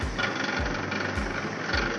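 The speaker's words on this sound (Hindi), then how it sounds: "ये अंदर मूंगफली ग्राइंड होती हुई बिल्कुल, ये बहुत ही कोल्ड प्रेस और शानदार तरीके से ये मूंगफली का तेल बन रहा है।" Oil press machine grinding peanuts to make cold-pressed peanut oil, a steady loud mechanical churn with a low thump repeating about every half second, running alone.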